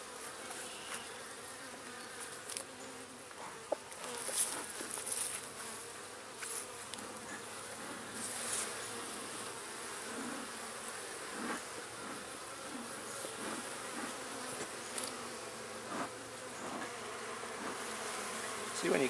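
Honeybees in a hive during a week-two beginner inspection, stirred up after being smoked, give a dense, steady buzz that fills the whole stretch without pause, with small clicks and knocks scattered on top and no talk.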